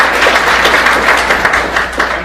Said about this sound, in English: let's give Thomas a round of applause